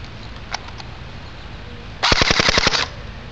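A D-Boys SCAR-L airsoft rifle on an 8.4-volt battery fires a short full-auto burst of about a dozen rapid, sharp clacks, close and loud, preceded by a few faint clicks.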